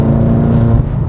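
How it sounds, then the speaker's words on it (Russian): A BMW M5 in M mode gives a loud, close exhaust note, a deep steady rumble with a burbling low throb that dips slightly near the end of the short burst. "Выхлоп намного громче."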